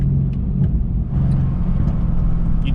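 A Mercedes-AMG C63 GTS tuned by CarBahn Autoworks with carbon intakes gives off a loud, steady, close engine rumble with induction noise, and no talk over it.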